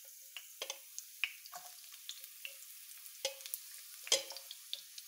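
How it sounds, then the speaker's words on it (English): Garlic drops into preheated oil for noodle stir-fry, giving a faint sporadic sizzle with scattered crackles and pops spread across the few seconds, heard alone without talk. "So I'm going to put this garlic here on the preheated oil."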